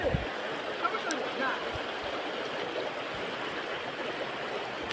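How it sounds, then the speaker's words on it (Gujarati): Fast-flowing water rushing along a canal, a steady, dense roar that stays constant throughout with no break. "જો મિત્રો પાણીની રફતાર વધી ગઈ છે હવે"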